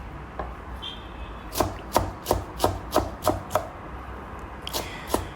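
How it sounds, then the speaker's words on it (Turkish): Fresh purslane being chopped finely with a knife on a cutting board for a salad, a close run of about a dozen crisp, evenly spaced chops, a few scattered, most in a quick steady rhythm. "tıpkı lahmacuna doğradığımız şekilde ince ince doğrayalım"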